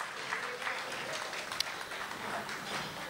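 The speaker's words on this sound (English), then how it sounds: "Please applause." Audience applause at a Neervely Kalai Malai community event in the UK, 2010, forms a steady wash of many hands clapping, moderately loud and sustained throughout.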